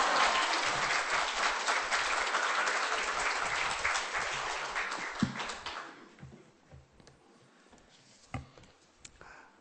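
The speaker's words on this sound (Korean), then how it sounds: "큰 소리로 할렐루야 하시면서 박수로 환영하시겠습니다" Church congregation applauds loudly and densely, the clapping sustained for several seconds before thinning out into scattered claps and quiet room noise.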